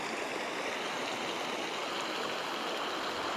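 Steady rushing water flows under a massive natural sandstone bridge in Arches National Park, Utah, a continuous broadband wash like a flooded stream, loud and close with no pauses or voices.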